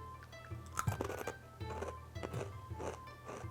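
Crunchy bites and chewing of a Calbee Japanese potato snack, several crisp close crunches in quick succession, alone without talk.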